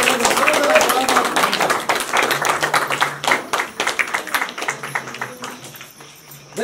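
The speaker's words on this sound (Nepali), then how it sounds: "हुन्छ हामी ताली बजाइदिन्छौँ" Wedding guests at a Nepali Christian church ceremony clap together in a dense burst of many hands that starts loud and thins into scattered claps as it fades.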